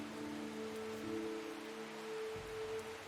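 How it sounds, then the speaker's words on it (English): Soft, steady rain patters in the video game Strange Horticulture, quiet and continuous beneath a low, sustained musical drone. "And it's raining again."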